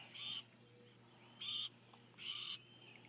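A hungry baby bird gives three loud, high, hissy begging calls spaced apart, with near silence between bursts and no talking.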